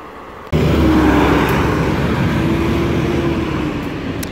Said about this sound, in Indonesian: Ini sedikit lagi datang busnya.